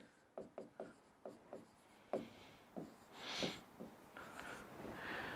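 Chalk taps and scrapes on a board during a maths class, a series of short close strokes at an irregular pace, with a brief longer scratch partway through, fairly faint in a quiet room.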